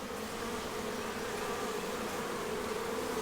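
Honey bees buzz from an open package hive during a May inspection, a dense, steady, close hum with no pauses.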